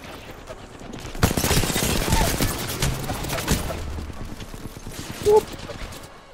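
Video game gunfire crackles in quick bursts and volleys, loud and close at times, while a player talks over the action.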